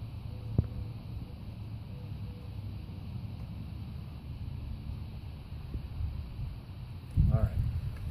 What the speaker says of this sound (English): this is a windy day today